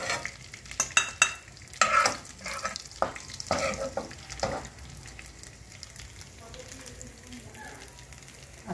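Cauliflower florets frying in oil in a home kitchen pan, a soft steady sizzle broken by clattering stirring and scraping of a utensil, louder in the first half and quieter toward the end.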